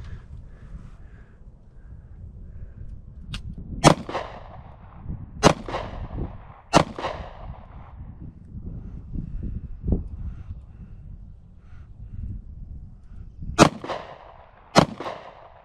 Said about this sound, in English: Rack the bullet, squeeze the trigger.